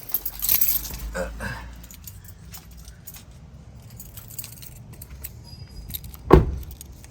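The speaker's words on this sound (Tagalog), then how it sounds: "Wait, ito yung susi natin." Car keys for a Toyota Fortuner jangle up close in a brief metallic rattle near the start, followed by quiet cabin ambience and a sharp click or knock toward the end.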